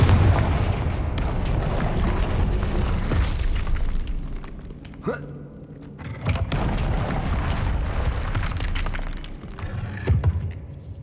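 Explosive fire-spell blasts from the Hogwarts Legacy video game, with heavy booming, shattering impacts and rumbling debris that come in repeated loud bursts across a dense, continuous stretch of in-game noise.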